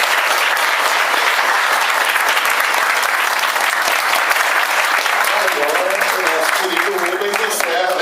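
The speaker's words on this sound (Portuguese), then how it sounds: "Uma salva de palmas, pessoal." A debate audience breaks into loud, sustained applause, dense clapping filling the room close by for several seconds while a voice speaks faintly underneath near the end.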